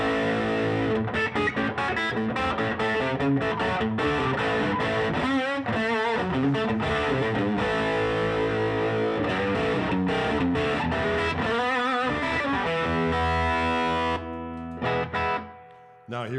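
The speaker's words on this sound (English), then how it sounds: "Let's hear the amp distortion." Electric guitar with P90 bridge pickup, overdriven through amp distortion, chugs through a long, thick distorted riff with bends and sustained notes, loud and close, before trailing off at the end.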